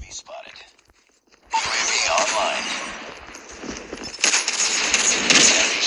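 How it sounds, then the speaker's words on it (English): A sniper rifle shot in the Call of Duty Mobile video game, one loud, sharp blast that breaks a near silence and trails into rumbling noise, with a second burst of firing later and a voice talking over it. "I missed that sniper shot."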